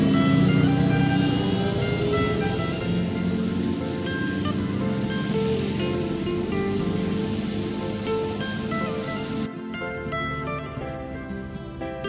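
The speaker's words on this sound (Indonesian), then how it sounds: "beginilah suasananya di parkiran Sakapa Air Badarun ini" Outdoor ambience at the Aia Badarun parking area in Lembah Anai, West Sumatra: a steady broad roar like rushing water or passing traffic, with faint tonal hum layered through, holding loud and constant before thinning abruptly near the end.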